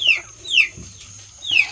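A chick chirps for its mother hen on an off-grid homestead, three short bright descending peeps spaced apart, close and fairly loud over a quiet background.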